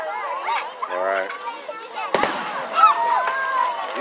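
Fireworks launch and burst at a display in Clearlake, California, with one sharp, loud thump standing out while adults and children talk nearby.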